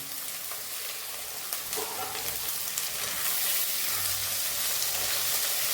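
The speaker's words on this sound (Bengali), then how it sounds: "এবার আলুটাকে একটু ভেজে নিতে হবে।" Potatoes fry in a pan for Bengali ghugni with a steady, broadband sizzle that swells louder midway and stays dense and close to the end, with no voices.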